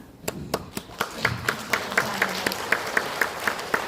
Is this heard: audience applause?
yes